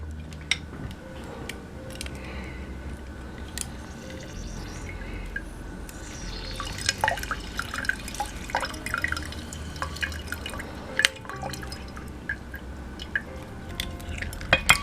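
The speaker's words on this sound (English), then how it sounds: "I'm just gonna cut up each of these in half, and I'm gonna juice them" Juice from halved, hand-squeezed lemons drips and splatters in small, irregular drops, faint and close, mixed with soft squishing and the crackle of the pulp being pressed, with no talking.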